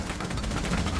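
Rapid gunfire in the tactical shooter game Rainbow Six Siege, a dense, continuous burst of shots at steady loudness throughout the short moment.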